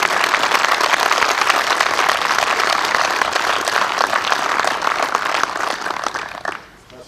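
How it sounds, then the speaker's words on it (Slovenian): An audience applauds at a Slovenian Army logistics brigade ceremony in Slovenska Bistrica: dense, steady clapping from many hands that carries on for several seconds, then tapers off quickly at the end. "Še en aplavz za najboljšo pripadnico logistične brigade."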